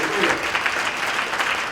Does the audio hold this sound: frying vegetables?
no